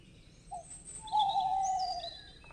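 An owl hoots in a farm animals video game, a soft, drawn-out hooting call over a quiet hiss, with a faint higher whistle-like tone above it and no speech.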